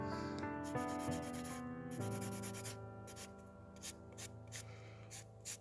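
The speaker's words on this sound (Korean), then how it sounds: "샌딩 블럭을 이렇게 계속 이 방향으로 하지 마시고 45도 방향으로도 해주시면 좋아요." A sanding block rubs back and forth across an extended nail tip, producing soft, quiet scratchy strokes in a steady rhythm, close and alone with no talk.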